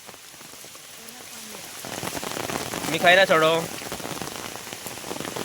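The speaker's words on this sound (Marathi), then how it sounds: "कारण पाऊस आहे जोरात" Heavy rain pours steadily in a coconut grove, a dense hiss that swells louder midway, while someone speaks briefly near the start.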